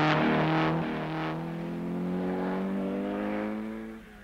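An Opel rally car climbs a mountain pass on the Rally of the Danube, its engine revving hard and close, with a quick gear change early on before a strong, steady pull that fades slightly at the end.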